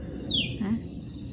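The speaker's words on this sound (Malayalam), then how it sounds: "കുഞ്ഞു കുഞ്ഞു കിളികളുടെ സൗണ്ട് കേൾക്കുന്നുണ്ട്." Small birds chirp close by on a sunny morning: one clear descending tweet followed by a brief lower call, short and bright over faint background.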